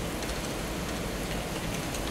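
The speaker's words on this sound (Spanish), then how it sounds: "Ya está lloviendo" Steady rain falls outdoors in a dense, even patter, moderately quiet and continuous, with no voices over it.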